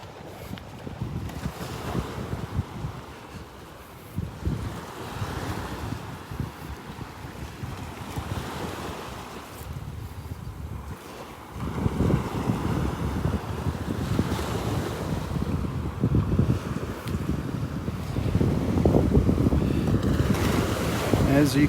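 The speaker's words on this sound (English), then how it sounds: "Little bit of a breeze here, the wind coming out of the north." A north wind gusts across a beach at Delnor-Wiggins, buffeting the microphone with rough rumbling bursts over the steady wash of surf, growing stronger in the second half.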